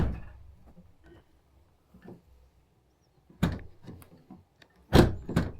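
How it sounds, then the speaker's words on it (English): Car door opening, quiet clicks and handling noises followed by two louder mechanical clunks near the end, close by with no talk. "Door opens."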